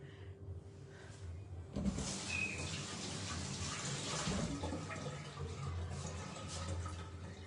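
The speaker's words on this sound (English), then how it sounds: "Now I need to wash my hands again." A sink tap runs steadily while hands are washed beneath it. The water rushes in a continuous wash that starts up sharply about two seconds in and stays fairly loud and close, with no talking.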